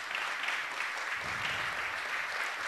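Congregation applause during a church sermon, a steady wash of moderate clapping with a faint voice briefly rising in the middle.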